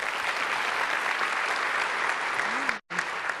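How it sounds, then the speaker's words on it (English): A large audience at the Clinton Global Initiative 2024 mainstage session breaks into loud, dense applause that fills the hall steadily, cutting out briefly near the end before resuming. "Please join me in giving a very loud round of applause to all of them."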